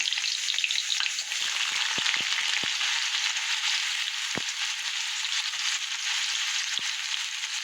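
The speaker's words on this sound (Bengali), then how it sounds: "তেল গরম হয়ে গেছে ফার্স্টে আমি রসুনটা দিয়ে দিচ্ছি তারপরে পেঁয়াজটা দিয়ে দিচ্ছি" Garlic and onion fry in hot oil, a steady loud hiss and sizzle close by with occasional soft knocks of a spoon stirring the pan, no voices over it.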